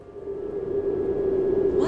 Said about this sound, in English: It's the sound of wind.